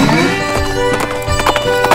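Horses gallop along a snowy winter trail at an equestrian centre, their hoofbeats a quick, steady clip-clop over a sustained tonal background.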